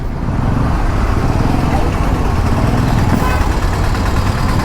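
Dense city street traffic in Nellore near a fruit market, a steady wash of car and motorcycle engines with idling vehicles, continuous and fairly loud throughout.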